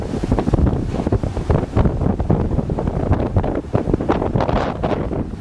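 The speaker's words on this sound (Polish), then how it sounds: "Na dworze jest wichura" Strong gale-force wind roars and buffets the microphone in heavy, rumbling gusts, loud and continuous throughout with no voices, on a road trip in Ukraine.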